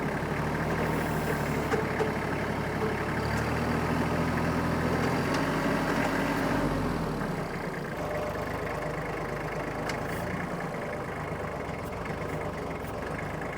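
A tractor engine rumbles steadily and close by, laboring under a heavy lift load with a deep, continuous drone that shifts slightly partway through.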